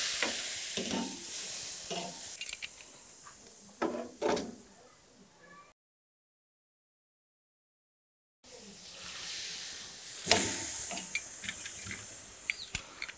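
Flank steak sizzles over a charcoal grill, a soft crackling fry interrupted by a few scraping handling sounds and a brief gap of silence before the sizzle resumes.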